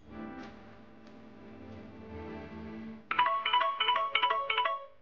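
A company mobile phone rings with a bright, repeating electronic ringtone that starts abruptly partway through, loud and close after a quieter stretch of indistinct background sound.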